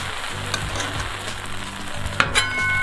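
Bear meat for birria tacos sizzles steadily in a hot pan, a constant close frying hiss with a few small clinks and stirring touches.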